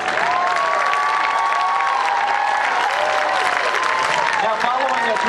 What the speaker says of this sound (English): Please cheer them on as they make their way around the track.